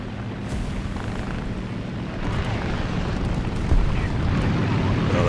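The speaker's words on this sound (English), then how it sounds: "Somebody's rattling off some AA sounding weapon down there." Anti-aircraft weapon firing in War Thunder, a rumbling, booming barrage of distant gunfire that swells slightly toward the end over a steady low engine drone, with a voice talking along.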